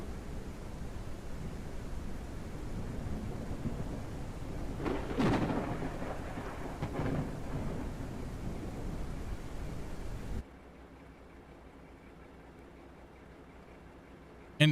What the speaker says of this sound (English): That rolling thunder sound.